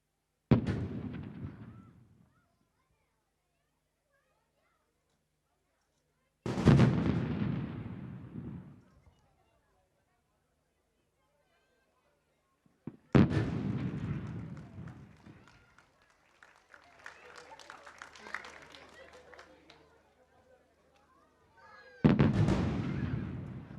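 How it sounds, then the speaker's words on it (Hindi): A 21-gun artillery salute at the Pakistan Day parade: single heavy cannon blasts boom several seconds apart, each followed by a long rolling echo. Crowd and ambient sound murmur between the shots. "कौमी अलम को अब 21 तोपों की सलामी दी जाएगी।"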